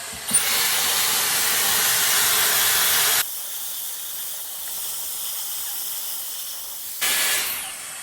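A Dyson Airstrait hair straightener on its wet setting at 140 degrees pushes out a loud, steady rush of hot air, drops to a softer whoosh midway, then surges back near the end.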